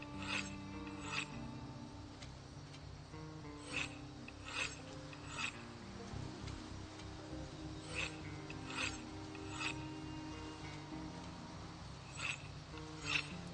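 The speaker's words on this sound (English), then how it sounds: "Just outside of stink zone and sharpen the hatchet" A hatchet is sharpened in Project Zomboid with a series of short rasping strokes at a regular pace, moderately close, over a low droning background music bed.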